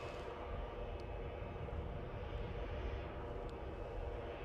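A Ryanair airliner taxiing at Edinburgh airport bound for London Stansted, a steady broad jet engine roar holding at even loudness throughout, with no speech over it.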